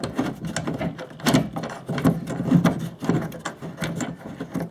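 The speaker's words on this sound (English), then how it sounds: "just wind the screws in" Screws being wound into a wooden model railway baseboard leg to raise it, giving a close, irregular series of creaking, ratcheting wood-and-metal turns, with no talking.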